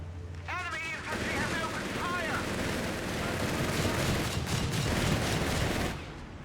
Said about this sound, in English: Sappers are getting absolutely peppered with a variety of automatic fire sources